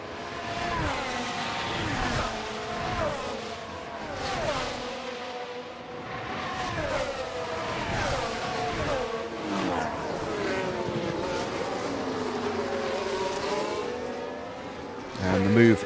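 Formula 1 cars in F1 Manager 24 race through the Shanghai circuit, engine whines rising and falling as one car overtakes another, steady and loud under continuous commentary.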